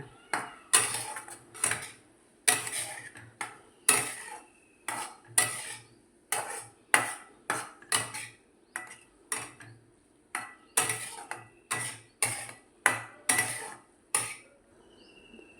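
A spoon stirs paneer bhurji with salt and spices in a pan over a low flame, producing a steady rhythm of repeated scraping and clinking strokes, close and clear, with brief pauses between bursts.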